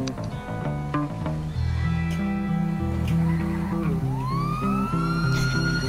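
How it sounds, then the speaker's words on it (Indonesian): A police siren wails in the game GTA 5, rising and falling loudly over a dense backdrop of droning helicopter and game sounds, with a fresh upward sweep near the end. "Anjir. Sirine yang keluar."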